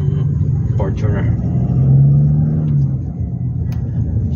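Toyota Fortuner 2.8 engine droning at low revs during a test drive, a steady cabin rumble heard from inside with someone talking over it.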